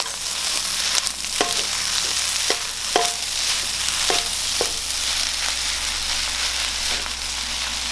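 Glass noodles tossed and stir-fried with oyster sauce in a hot pan for Thai pad woon sen, a steady sizzle broken by repeated scraping strokes of a spatula, loud and close with no talking.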